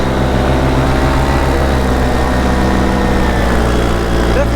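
A paramotor engine fitted with a replacement propeller drones loudly and continuously nearby, a steady buzzing, propeller-driven roar that holds even throughout.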